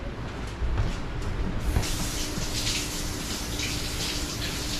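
Running tap water rinsing a dropped squash in a kitchen sink, a steady close hiss and splash that continues throughout with no speech.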